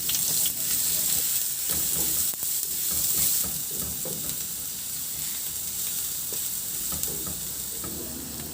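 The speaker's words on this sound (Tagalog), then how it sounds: "Maglagay ako ulit ng konting mantika sa kawali at igisa ko na rin yung bawang." Garlic sautéing in a little oil in a wok-style pan for a Filipino home dish, a steady close sizzle and crackle with occasional scrapes of stirring throughout.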